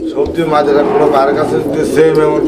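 Pigeons coo at a pigeon market, a soft low cooing mostly buried under close, steady conversation.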